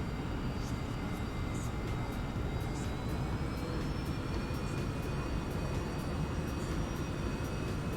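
Steady aircraft engine drone in the X-Plane 11 flight simulator as the throttle is pushed up for a budget flight from Penzance to John O'Groats, a continuous even roar with faint high tones, no voices.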